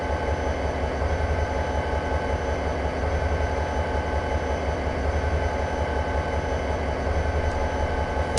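A freight train's diesel engine drones at the Cajon Pass in Train Simulator, a loud, continuous low rumble with a steady hum throughout and no talking.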